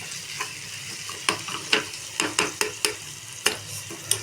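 Oil bubbling and sizzling in a pan for a homemade face oil, with a spoon scraping and stirring in sharp, irregular strokes over a steady low fizz, close and moderately loud, no talking.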